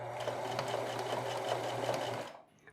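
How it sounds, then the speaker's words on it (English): A sewing machine stitches across seams in stretchy fabric, running as a steady loud whir with a constant hum that stops abruptly near the end. "Same thing for sewing over top of seams."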